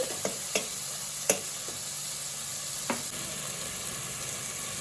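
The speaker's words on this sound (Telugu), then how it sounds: "టమాటా ముక్కలు వేసుకోవాలి. ఇది కూడా ఒక 1 మినిట్ ఫ్రై అవ్వాలి." Cut tomato pieces frying in a pan for masala curry, a faint continuous sizzle with a few sharp spatula taps spaced apart, close by and without talk.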